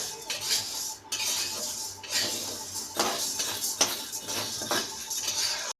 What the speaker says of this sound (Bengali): ডালটা আমি অল্প অল্প করে ভেজে নেব